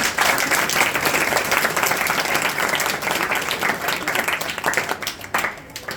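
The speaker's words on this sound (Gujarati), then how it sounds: "તો એના માટે એકવાર જોરદાર તાળીઓ." Audience at a school annual function giving loud, sustained applause, dense rapid clapping filling the hall, easing slightly toward the end.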